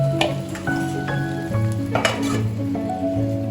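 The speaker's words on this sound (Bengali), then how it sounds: "এগুলো আমি একইভাবে ভেজে নেব।" Tangra fish sizzle in oil in a wok, with bright metallic scrapes and clinks of a utensil against the pan over a short, busy frying hiss.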